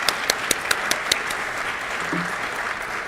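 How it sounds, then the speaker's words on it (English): Applause from a town hall audience in New York greeting Congresswoman Carolyn Maloney, a steady crowd clapping that holds at an even level, with a few sharper claps standing out near the start. "I just want to give her a wonderful round of applause"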